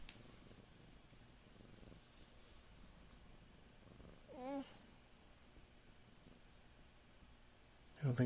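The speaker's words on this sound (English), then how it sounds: "I don't think purring on it's gonna help either" A cat purrs softly on a laptop keyboard, a faint, steady rumble through much of the stretch, with a brief clatter and a louder burst near the end.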